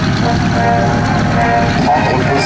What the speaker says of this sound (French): monsieur Axel, ah, c'est beau un DC-3